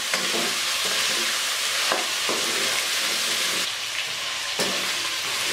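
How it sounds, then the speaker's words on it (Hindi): Chicken fries with ginger garlic paste for a karahi, giving a constant close sizzle broken by several scraping stirs of a spoon against the pan, with no speech. "अदरक लहसुन पेस्ट के साथ हमने इसको 2 मिनट भूनना है।"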